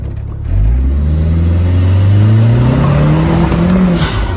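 A Pontiac Sunbird GT Turbo pulls hard from a standstill, its engine note climbing steadily in pitch as it accelerates, loud and close from start to finish, with no talking.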